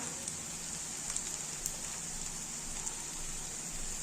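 Onions with salt frying in a pan for egg burji, a steady soft hiss and crackle with occasional small pops, close and even throughout.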